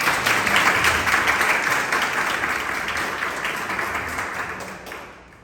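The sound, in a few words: audience applause for speaker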